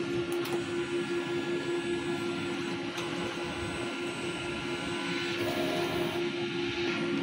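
An inkjet printer runs a print head cleaning cycle, giving a steady mechanical whir and hum with faint clicks and shifts, close and continuous throughout.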